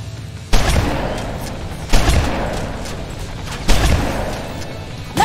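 Shotgun blasts in Terminator Resistance: four sharp, loud booms spaced roughly a second and a half apart, each decaying into a rumbling tail, with no talk.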